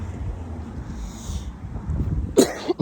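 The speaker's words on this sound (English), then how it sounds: "That was a good cough." A single sharp cough bursts out near the end, close and loud, over a low breezy outdoor background with some wind rumble.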